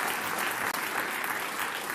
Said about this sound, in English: they've probably got a laugh track and an applause track